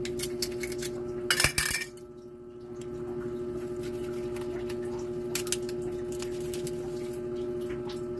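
A knife cuts into a three-kilo tuna at a small kitchen sink, giving a brief scraping, clinking burst near the start, then soft scrapes and faint taps over a steady background hum.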